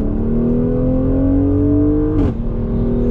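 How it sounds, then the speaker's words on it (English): A 2020 Mercedes AMG GLC 43 with 4MATIC all-wheel drive accelerates on throttle, engine note climbing steadily and loudly from inside the cabin, then a sharp upshift break followed by a quick exhaust pop. "nice pop from that exhaust."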